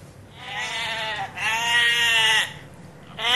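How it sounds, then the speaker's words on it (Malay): A goat bleats twice in long wavering cries, the second louder, with the start of another bleat cut off at the end; no talking. "Ini adalah bunyi kambing."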